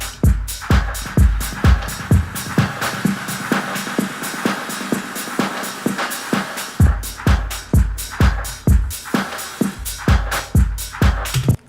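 A rhythmic electronic drum pattern in Ableton Live with punchy kicks and snappy hits, each trailing into reverb and echoing delay tails, with a brief sparse break midway.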